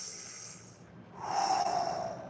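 Two easy, loose breaths during a breathing exercise, a soft airy exhale fading into a louder, rushing breath, close to the microphone.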